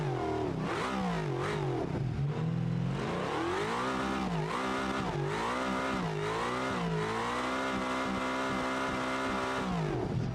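A drift car's engine with a Derby exhaust in the BeamNG driving game, built for a Formula Drift event, revs loudly and continuously, its pitch rising and falling in repeated sweeps with no talking.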